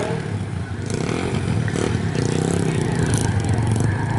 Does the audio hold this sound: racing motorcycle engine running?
yes